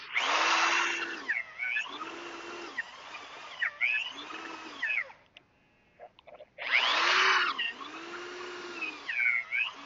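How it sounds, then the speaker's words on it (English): An old Craftsman half-inch corded electric drill whines loudly in long bursts, bogging down under load, pausing briefly, then revving up again, close and dominant. "The old Craftsman 1/2 inch corded drill. Nothing will ever stop this thing."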